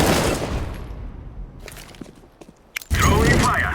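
A flashbang grenade in a tactical shooter goes off with a sudden loud bang near the end, preceded by scattered clicks and quiet game ambience, with a voice talking.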